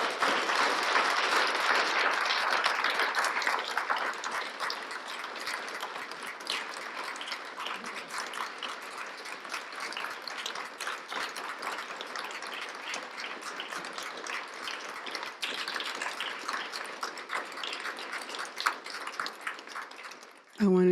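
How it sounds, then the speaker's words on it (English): Sustained audience applause after a talk, loud at first and gradually thinning into scattered clapping over about twenty seconds, with a brief sound at the very end. "get a huge round of applause from you"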